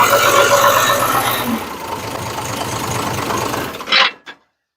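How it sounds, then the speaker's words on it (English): An old tractor engine, converted from 24 to 12 volt, cranks and fires up, then idles with a steady low chugging before cutting off abruptly with a brief clunk near the end. "Tractor starts right up."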